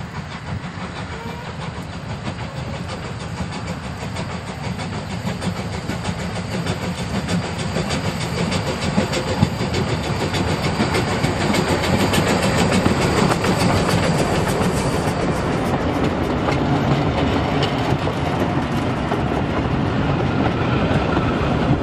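A museum railway train with its locomotive runs past near Heiligenberg on the DEV heritage line, a steady loud rumble and clickety-clack of wagons rolling by throughout, swelling slightly midway.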